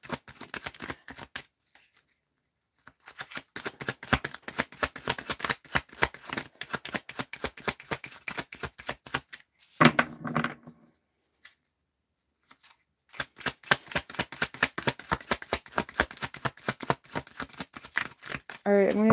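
Tarot cards are shuffled and flipped through in quick, dense bursts of crisp snapping and riffling, separated by short silent pauses, close and clear.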